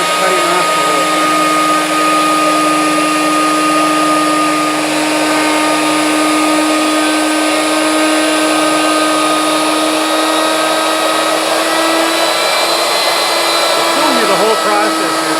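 A CNC machine cuts a part in a shop, giving a loud, steady whine with sustained tonal hum that runs unbroken for the whole stretch, close by and with no talk over it.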